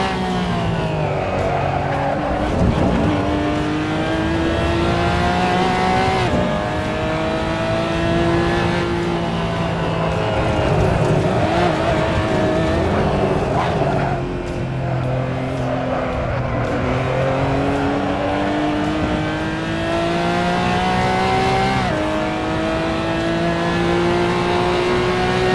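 A race car runs an out lap on a track, its engine note rising and falling repeatedly through gear changes and corners, with a steady close-up onboard roar throughout.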